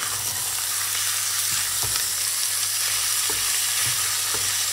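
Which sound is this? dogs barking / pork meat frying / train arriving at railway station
pork meat frying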